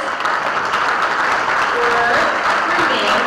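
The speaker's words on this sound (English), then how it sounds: "let's give a huge round of applause" Sustained applause from a crowd at a state of education event, steady and fairly loud, with a voice faintly audible underneath.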